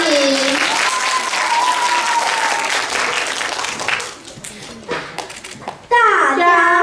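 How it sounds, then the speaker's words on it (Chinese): A crowd applauds to welcome two performers onto a stage, with a few seconds of steady clapping that fades out, followed by children's voices chattering nearby. "掌声欢迎。"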